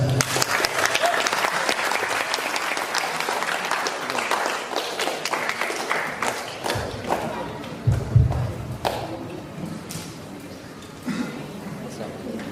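An audience at a school science-writing competition in West Flores applauds a participant, with strong, sustained clapping that slowly tapers off while a presenter's voice speaks over the later part.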